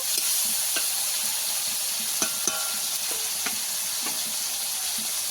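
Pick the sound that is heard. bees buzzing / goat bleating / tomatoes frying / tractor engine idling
tomatoes frying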